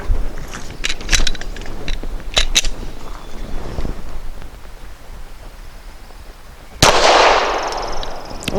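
A custom Glock 34 fires subsonic 158-grain rounds, giving several loud, close, sharp shots in irregular clusters with the final report the heaviest and followed by a ringing decay.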